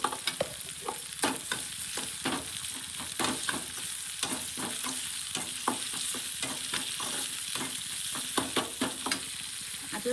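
Tomatoes with salt sizzling in a pan while a spoon stirs and scrapes, with a steady close frying hiss and frequent clinking stirring strokes and no talking.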